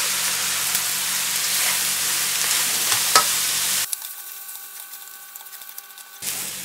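Washed rice frying in a pan for an omelet rice dish, a steady broadband sizzle with light scraping for nearly four seconds before cutting to a quieter, thinner hiss.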